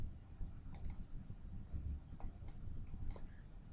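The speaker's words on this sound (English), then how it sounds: "We're going to right-click on here once again" A computer mouse gives several sharp, light right-clicks, scattered singly and in quick pairs over a soft background hum.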